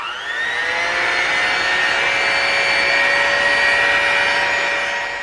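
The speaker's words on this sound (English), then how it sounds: "we're gonna put our hand mixer on low and we're going to just slowly incorporate the yolks into there" A hand mixer running on low while folding egg yolks into whipped egg whites, a loud steady motor whine with a slight pitch rise as it starts, continuous and close for several seconds, no talk.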